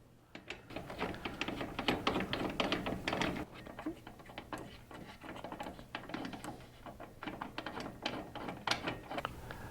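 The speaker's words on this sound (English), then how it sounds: "Screw the die into station 1 until it touches the top of the shell plate." A die being screwed into station 1 of a Dillon RL550C reloading press, a dense run of small clicking, ratcheting metallic taps and threading noises throughout, close and moderately loud with no voices.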